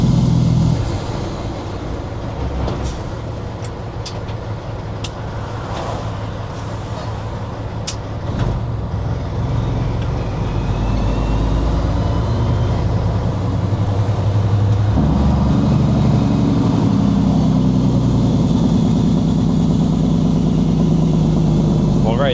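A Kenworth W900 truck rumbles with a deep, loud engine roar that swells into a heavier, throatier braking growl partway through, heard from the cab with faint knocks and clicks.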